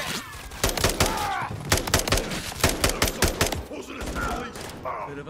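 Gunfire in the Modern Warfare 3 video game from a semi-automatic shotgun: rapid repeated sharp blasts in quick bursts, loud and close, with a short pause and a few more shots.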